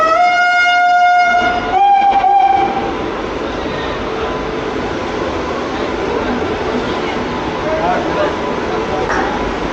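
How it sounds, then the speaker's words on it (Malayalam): A train at Nashik Road railway station sounds a loud horn blast at the start, then rolls on with a steady rail rumble and platform bustle. Voices are faintly audible in the background. "അപ്പോൾ ഇതാണ് നാസിക് റോഡ് റെയിൽവേ സ്റ്റേഷൻ."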